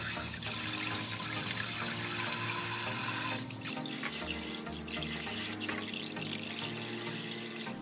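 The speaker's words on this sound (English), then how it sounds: "Wash it clean under running water like this." Steady rush of tap water running over pork backbone or neck bones in a sink while they are rinsed clean for Korean gamjatang pork bone stew, with small splashing shifts as the bones are handled, close and continuous with no talk.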